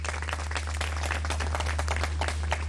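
Audience at a Miss Vodacom Congo pageant claps steadily for a contestant, a dense, even patter of applause heard alone over a low hum.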